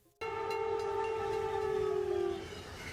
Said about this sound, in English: he might have heard the train horn or engine noise earlier